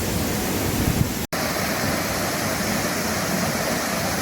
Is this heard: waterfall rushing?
yes